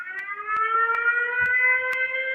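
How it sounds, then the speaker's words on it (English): A siren sound effect holds a steady, loud wailing tone that climbs slightly in pitch, broken by sharp periodic clicks, with no voices over it. "let's have a siren for this one."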